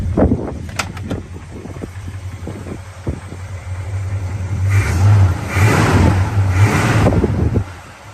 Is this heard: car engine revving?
yes